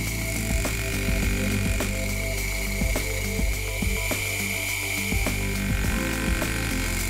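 Milling cutter cutting gear teeth on a lathe setup, a continuous high metallic whir with regular clicking, ratchet-like ticks about every second, close and steady with no talking.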